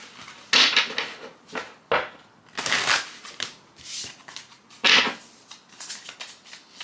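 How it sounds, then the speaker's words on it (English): Tarot cards shuffled by hand in several quick riffling bursts with short pauses between, close and crisp, with faint handling noises in the gaps. "So we're going to do another shuffle"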